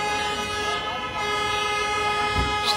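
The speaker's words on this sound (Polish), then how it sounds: "Wszyscy trąbią." Car horns honk in busy street traffic jammed by a parked car in Van, Turkey, steady horn tones sounding through continuous traffic noise, with a voice briefly audible.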